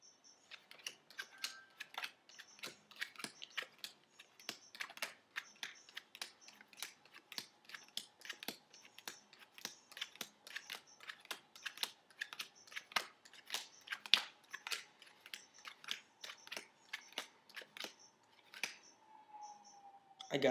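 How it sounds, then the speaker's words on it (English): A deck of playing cards being gone through by hand, a steady run of quick, soft, crisp flicks and snaps repeating close up for about twenty seconds in a quiet room. "So now I go through the deck."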